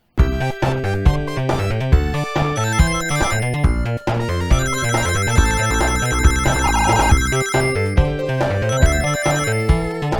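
Bright chiming Sonic ring pickup sounds repeating rapidly over busy electronic game music on SEGA Model 2 arcade hardware, loud and close.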